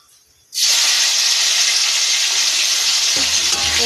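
Cumin seeds, dried chili and a bay leaf hit hot oil, bursting into a loud, steady sizzle that holds close and continuous after a brief quiet start, with a low clatter of stirring near the end.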